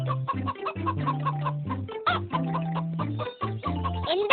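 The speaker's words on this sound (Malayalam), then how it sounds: "എന്താ കോഴിയമ്മേ, എന്നെ ഉറങ്ങാൻ സമ്മതിക്കില്ലേ? എന്തിനാ ഇങ്ങനെ വിളിച്ചു പോകുന്നത്?" A hen cackles loudly and repeatedly after laying an egg, a rapid run of close, harsh clucks rising into longer drawn calls, with no talking over it.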